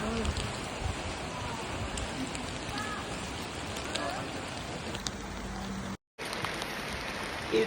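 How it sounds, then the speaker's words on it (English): Rain falling steadily during a scenic panorama tour from Salzburg to Hallstatt, a dense even hiss close by with a brief dropout near the end, no clear voices. "Hallelujah. It's raining."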